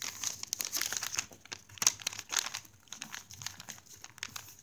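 Paper crinkles and rustles close up in short, quiet bursts as it is folded into modules for an origami five-pointed ninja star.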